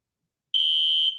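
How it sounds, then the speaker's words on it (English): A fire alarm in a radio studio sounds one shrill, piercing electronic beep after a moment of silence, holding steady for about half a second before cutting off. "the fire alarm has just gone off."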